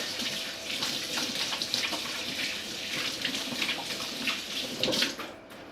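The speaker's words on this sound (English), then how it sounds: "even if you don't see me washing my hands, I'm doing it several times" Hands are washed under a running kitchen tap, with a continuous close splash of water. Brief surges and shifts in the flow come as the hands move, and a louder splash near the end is followed by the water shutting off.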